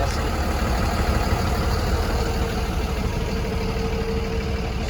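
A 2019 Freightliner M2 box truck with a 6.7 liter six-cylinder Cummins diesel idles close by, holding a steady, loud, low rumble throughout.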